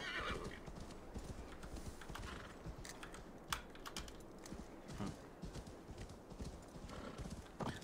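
Rhythmic hoofbeats of a galloping horse in the game Assassin's Creed Valhalla, with a whinny and quick keyboard tapping mixed in, at a steady pace throughout.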